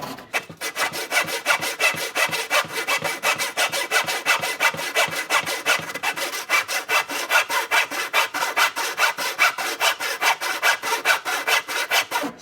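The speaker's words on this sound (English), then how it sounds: "I'm going to keep my saw in that kerf" Hand saw cutting through wood for a hand-cut joint, a close, steady run of rhythmic push-and-pull strokes that rasp continuously with no pauses or talk.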